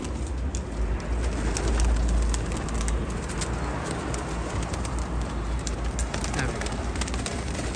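Soft pigeon coos under steady outdoor noise and rustling, with a few sharp clicks scattered through.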